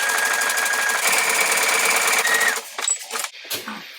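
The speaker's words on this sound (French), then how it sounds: "J'adore coudre ce tulle" A sewing machine stitches tulle in a loud, close, steady whir for about two and a half seconds, then stops, followed by light fabric handling and a few soft clicks.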